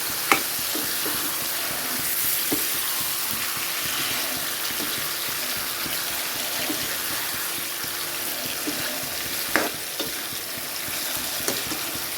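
Water is added to jackfruit and potatoes frying in masala in a pan, producing a watery, running hiss over the sizzle, with a few clinks of the spoon against the pan.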